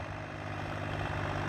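Continuous low diesel thrum of a Mahindra 265 tractor working under load while ploughing, an even, unbroken engine drone heard alone at moderate distance.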